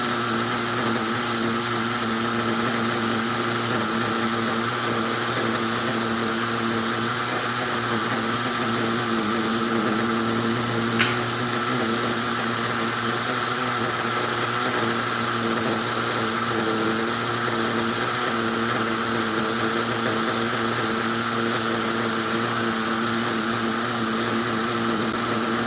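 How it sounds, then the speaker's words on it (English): Continuous, loud buzzing drone of a remote-control vehicle engine running steadily, close by and unbroken, with no voices. "That engine is so crisp."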